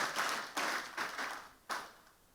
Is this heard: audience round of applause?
yes